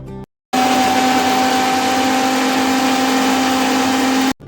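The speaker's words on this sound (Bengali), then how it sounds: "স্বরূপ চলে এসেছে দেখো রান্নাঘরে আর মশলাটা বেটে নিচ্ছে" A mixer grinder whirs loudly as it grinds spice paste in a home kitchen, a steady high motor whine with a strong tonal hum that starts abruptly after a brief silence and cuts off near the end.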